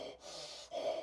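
A voice imitates a sharp breathing-method breath, a quick forceful huff and snort followed by a louder, harsher exhale, close and alone with no words.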